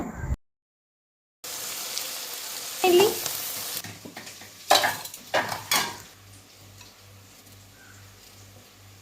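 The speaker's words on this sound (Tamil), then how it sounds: "நெய் அதுகளெல்லாம் போட்டு சீரகம் அதுகளெல்லாம் போட்டு வெங்காயம் போட்டு நல்ல பொன்னிறம் வர்ற வரைக்குமே அதை வதக்குறா" Onions frying in ghee with cumin for a Jaffna-style biryani, a soft sizzle with bursts of metal utensil stirring and scraping against the pan, after a brief silent gap, then a low hum as the sizzle fades.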